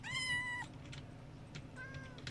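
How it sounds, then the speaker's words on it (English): A cat meows loudly and close by, one drawn-out call and then a second shorter one, over a steady low background hum. "there's a cat in there"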